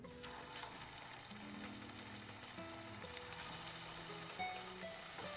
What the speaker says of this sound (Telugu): ఇవి స్లో ఫ్లేమ్లో పెట్టుకొని ఫ్రై చేసుకోవాలండి.